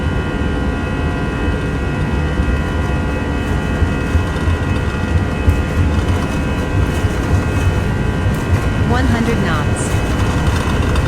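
Airbus A319 CFM jet engines spool at takeoff thrust in a steady, loud, dense roar with a continuous whine layered on top, filling the whole stretch with no breaks; a faint voice sits beneath it.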